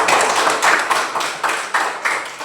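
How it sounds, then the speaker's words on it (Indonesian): A school class claps steadily for a couple of seconds, a dense, even round of applause from many hands, loud and close. "Tepuk tangan untuk kelompok 3"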